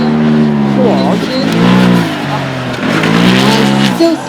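Hillclimb car braking hard and swinging round a berm at the Goodwood Festival of Speed, engine note dropping and rising with tyre scrub, heard close and loud beneath steady commentary.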